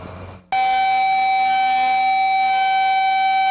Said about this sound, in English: you may have heard sirens like the one behind me at New Haven Road sound for about 5 minutes today